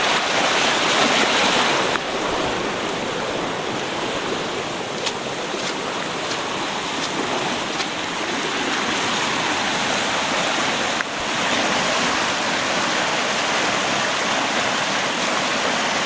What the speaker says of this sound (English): you just see the water falling off the edge like it's rolling off a shelf or something